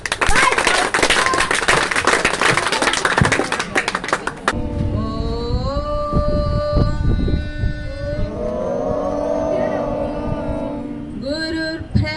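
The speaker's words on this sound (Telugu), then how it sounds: "సిక్స్ క్లాప్ గట్టిగా పడాలి" Children at a school birthday celebration clap loudly together for about four seconds, then stop as voices take over in chanting.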